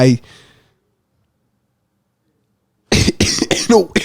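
A single sharp cough opens, followed by nearly three seconds of silence, then a person starts talking.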